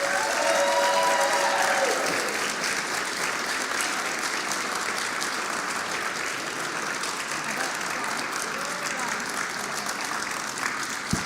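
Audience applause at the Highwood candidate forum, a sustained burst of clapping from the room that stays loud throughout before beginning to thin near the end.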